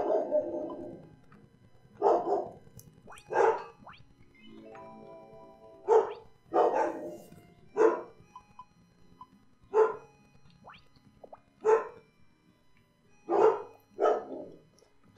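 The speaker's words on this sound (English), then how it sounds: "Gotta love the dogs going bork," Dogs in the Rune Factory 5 game barking in a repeating pattern, single and paired barks spaced about every two seconds, clear and near against a quiet background, no talk.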